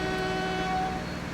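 A train horn in Transport Fever 2 sounds as one long, steady, loud tone with bright stacked harmonics, held unbroken throughout.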